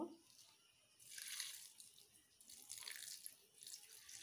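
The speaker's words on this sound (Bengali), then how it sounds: "পানি দিয়ে দিচ্ছি।" Water is poured over water spinach to wash it, making two soft splashing gushes separated by a quieter pause, faint and close.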